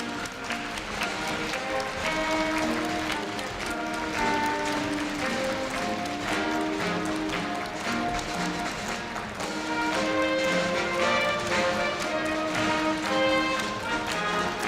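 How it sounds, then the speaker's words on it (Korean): Sustained applause fills a large hall at a Korea University freshman entrance ceremony as the president and faculty leave, a dense steady patter of many hands with tonal music underneath throughout. "끊임없는 환송의 박수 부탁드립니다"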